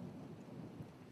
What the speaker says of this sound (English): Why have I never seen a storm?